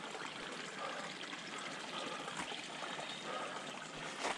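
A small stream trickles and burbles steadily along a bushland trail at Wilsons Promontory, a continuous near wash of running water with no voices over it.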